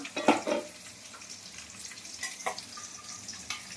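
A silver carp fish head frying in a pan sizzles softly and close, crackling bursts coming and going with a few louder spits and watery scrapes, no talk.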